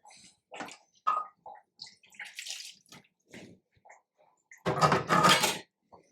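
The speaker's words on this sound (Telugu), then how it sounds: "గ్లాస్ వాటర్ పోస్తున్నా, ఉడకాలి కదా మటన్." A glass of water is poured into a pot of mutton curry in a home kitchen, giving short splashy bursts and a louder sustained pour near the end, close and clear.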